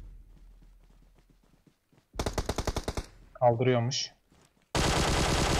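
A sharp burst of rapid automatic gunfire rings out in PUBG Mobile, followed after a brief voice by a second dense, loud burst. Faint background rumble comes before the first.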